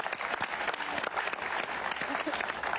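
A television studio audience applauds loudly and continuously during a talk show interview with a music group, with dense clapping and crowd noise and some voices mixed in throughout.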